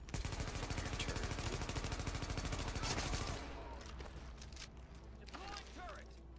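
In The Division, a deployed turret fires a rapid, steady stream of automatic shots for about three seconds, then stops, leaving fainter game ambience with a few scattered clicks and creaks.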